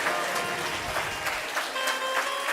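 Sparse, weak clapping from a devotional discourse audience in India, scattered hand claps at moderate distance with a faint murmur of voices underneath.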